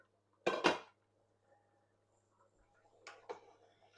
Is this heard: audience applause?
no